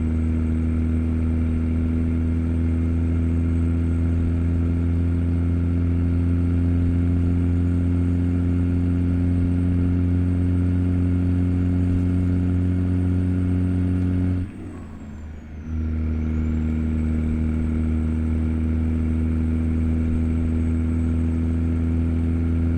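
A Kenworth W900 with a stock Z-Mods C16 engine drones steadily in American Truck Simulator while hauling a chemical tanker on the highway, a loud, constant low hum with a brief dip and sweep midway before the drone resumes.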